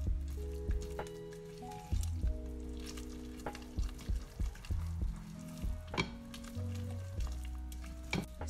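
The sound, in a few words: mixing thick vegan carrot cake batter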